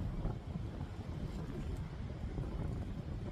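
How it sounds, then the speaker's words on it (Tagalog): Gusty wind blows steadily through a snowstorm in Westmount, a dense low rumble buffeting the microphone without a break and no voices over it. "So, mahangin at malamig."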